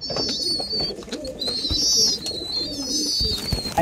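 Fancier's pigeons coo in low, soft, repeated bursts close by, while thin high chirps and whistles run over them throughout.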